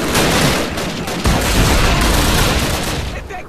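Dense, continuous volleys of gunfire with booming impacts in Call of Duty: United Offensive, loud and sustained throughout, like a chaotic firefight, with a short break near the middle.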